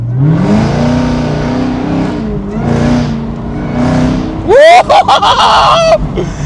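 A Chevrolet Camaro ZL1 convertible pulls hard from a standstill, its engine droning loudly and rising, then breaking into sharp, sweeping rising tones near the end.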